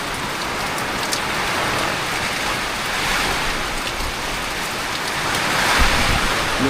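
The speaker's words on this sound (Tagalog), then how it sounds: "Ulan at hangin." Heavy rain pours down steadily, drumming on surfaces with a constant rushing hiss, as gusts of wind swell in the background.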